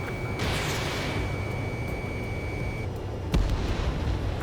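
An anti-air radar vehicle blows up in the Ace Combat 7 combat flight game, a loud sustained blast over a constant rumble, with a sharp second burst near the end.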